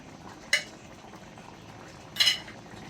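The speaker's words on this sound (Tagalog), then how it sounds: "Haluin lang ulit natin" A spoon stirs pork ribs caldereta thickened with liver spread in a pot, giving two sharp metallic clinks about a second and a half apart over a quiet simmer.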